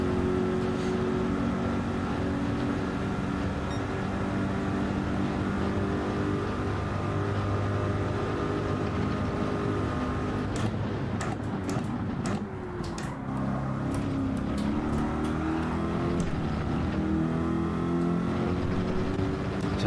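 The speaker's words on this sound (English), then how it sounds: "the guy in the Lexus absolutely flying behind us in the slipstream" Steady high-revving racing car engines from Gran Turismo 7 at Bathurst, a sustained loud drone with shifting pitch as gears change and a rival car runs close behind in the slipstream.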